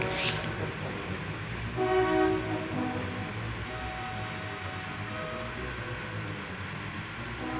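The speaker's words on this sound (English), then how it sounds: "And a pretty big train." A long freight train rolls past on the road to Deadman Pass, Idaho, with a steady rumble of cars and a brief horn-like tone near the start, heard from a passing vehicle.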